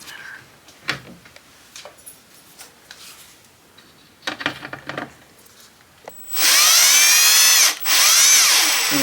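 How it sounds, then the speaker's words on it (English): A power screwdriver drives screws into an RV air conditioner silencer, first with scattered handling knocks and short bursts, then a loud, close, steady whirring run that pauses briefly and resumes. "So now I'm going to get my screwdriver"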